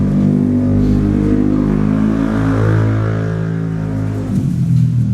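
A loud motorbike engine roars past nearby, a sustained revving drone that holds steady and then shifts pitch as it moves away near the end.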